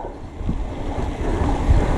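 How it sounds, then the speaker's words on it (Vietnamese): Water from a mountain stream tumbles down a cliff face beside a winding mountain pass road, making a steady, even rushing wash that fills the clip with no voices. "trên vách núi nó có cái suối chảy xuống rất là đẹp không ạ"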